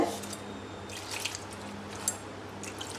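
Water runs and splashes steadily into a cooking pot of tomatoes, a soft continuous trickle with a few small drips, close by and fairly quiet.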